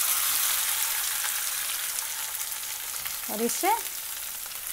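Mashed potatoes fry in hot oil with a steady, fairly quiet sizzling hiss, and someone speaks a couple of words briefly near the end.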